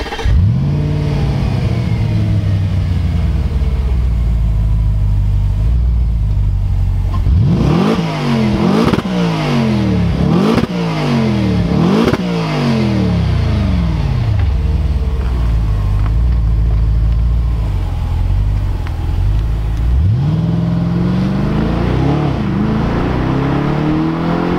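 An Audi RS5 with its 450 hp V8 in dynamic mode accelerates hard through several rapid upshifts, its engine note rising and dropping repeatedly, then pulls strongly again after a steadier cruising stretch.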